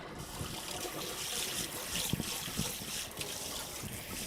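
Liquid dribbles steadily from a plant milk maker after making oat milk, a continuous close trickle with a couple of soft drips standing out.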